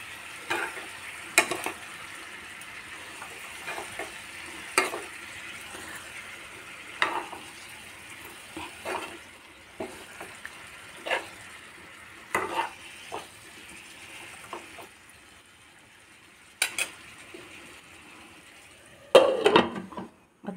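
Pumpkin sabzi with sugar sizzles softly in a kadhai while being stirred, with a steady low frying hiss broken by repeated scraping and clinking spoon strokes against the pan, close and without talk.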